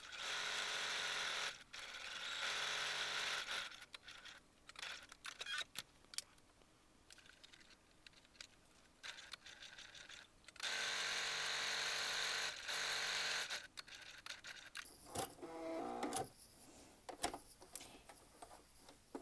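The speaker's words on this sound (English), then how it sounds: "we're just going to sew some straight lines, very simple" A sewing machine stitches straight seams on a fabric wine bottle gift bag, running in bursts of steady mechanical whirring separated by quieter pauses, close and moderately loud with no voices.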